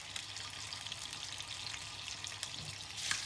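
Hot oil frying in a pan, ready for salted prawns for a Thai green mango salad, giving a steady, close, crackling sizzle with no talking.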